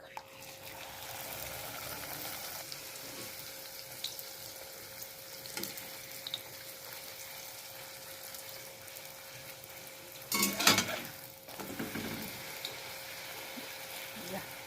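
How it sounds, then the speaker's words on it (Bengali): Luchi, a puffed flatbread, frying in hot oil for a Sunday breakfast, a faint steady sizzle throughout with a few soft clicks and a louder burst of bubbling and clatter near the end. "দেখি আরেকটা ভেজে নিয়ে এটা কি হয়"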